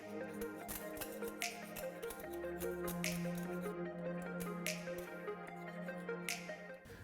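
A flat tool or razor scrapes old gasket residue off the Dana 44 differential housing of a 2007-2018 Jeep Wrangler JK, giving a series of short, faint scraping strokes at an uneven rhythm over a steady low hum.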